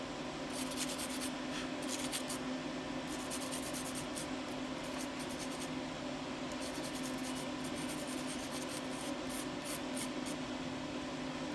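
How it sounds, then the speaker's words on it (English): Pencil lead pointed by rubbing on a small sandpaper pad, a soft, steady scratchy rasp with quicker bursts of strokes, faint and close with no talking. "If you ever want to point your lead, use one of these little sandpaper things."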